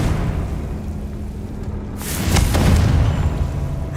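A Confringo spell explosion in the video game Hogwarts Legacy, a single booming blast that swells and rumbles for a couple of seconds over steady game ambience.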